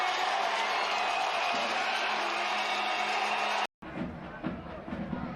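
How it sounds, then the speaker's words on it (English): A loud, roaring football stadium crowd cheers after a penalty goal at a USL Championship match, a dense wash of noise that cuts off abruptly before quieter crowd murmur with a voice returns. "Listen to the reaction of that crowd as well."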